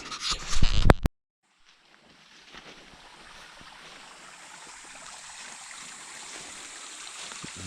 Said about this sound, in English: Very little water running, but it is running.